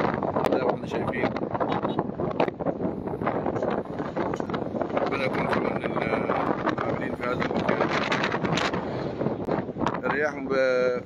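Strong, gusting wind of a dust storm carrying sand and dust roars steadily across a desert highway in Egypt's New Valley, loud and buffeting close to the microphone, with someone speaking over it throughout.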